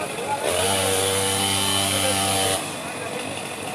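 A chainsaw cutting trees in a forest at night runs loud and steady for about two seconds with a sustained buzzing drone, then drops back to a lower idle, with voices nearby.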